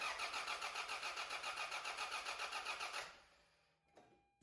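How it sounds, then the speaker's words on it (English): A 1997 Toyota RAV4 engine, just back together after a cylinder head gasket replacement, cranks in a steady rhythmic starter whir for about three seconds without catching, then falls quiet apart from a brief faint clunk. "Now let's just start the engine so we can warm up the cooling system and get all the air out."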